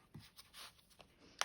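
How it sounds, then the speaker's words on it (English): Scissors rub over a fabric envelope to flatten it: a few soft, quiet scraping strokes close by, ending with a sharp little click. "I could burnish it down a bit, I think, with some scissors."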